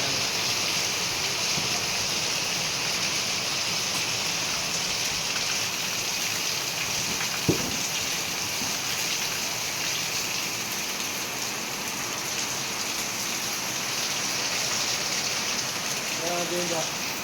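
Steady rain falling during the rainy season in Laguna, a constant soft hiss on surfaces with one sharp tap partway through and faint chirps near the end.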